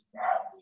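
A dog lets out one short, sharp bark, close and clear against a quiet background.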